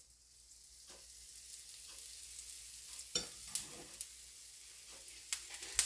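A gram flour pancake (besan pulla) sizzles steadily in freshly added oil on a hot pan, a continuous close frying hiss with occasional spatula scrapes and pops, with no talking.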